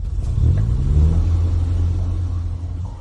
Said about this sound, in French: Voiture. C'est une voiture.